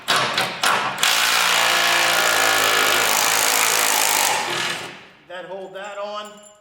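A Milwaukee power tool removing bolts from a Peterbilt 567 bumper, a loud sustained rattling hammer of the impact wrench for several seconds, with brief bursts before and someone speaking afterward.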